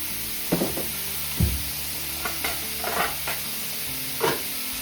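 A spoon stirs turmeric powder and grated coconut in a hot pan, a faint steady sizzle underneath with several distinct scraping strokes, close and quiet.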